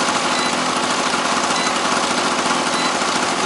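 Engine of an electric generator under repair, running steadily while it warms up, a loud continuous mechanical drone with no pauses or change in level throughout.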